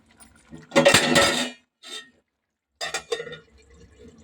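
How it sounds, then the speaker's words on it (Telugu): A metal lid clinks and clatters onto a pan of tomato egg curry in a couple of short, close bursts of rattling contact separated by silence. "మూత పెట్టేద్దాం"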